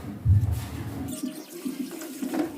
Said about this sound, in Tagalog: Ngayon hugasan muna nating mabuti para matanggal yung mga dumi at mga putik-putik na nandito sa mga dahon.